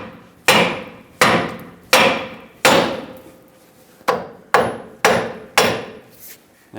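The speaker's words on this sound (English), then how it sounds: "take a hammer, tap the knuckle to separate the two" Seven sharp metallic hammer blows strike the steering knuckle of a Chevrolet Silverado 2500 HD at a steady, deliberate pace to separate the tie rod, each ringing briefly before the next; no talking.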